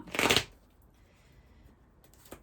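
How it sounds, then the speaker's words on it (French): A Love Amour oracle card deck is shuffled in one loud, close riffle of papery flutter lasting about half a second, then near quiet, with a faint second card rustle at the very end. "On va prendre, allez, quelques cartes du Love Amour pour les célibataires."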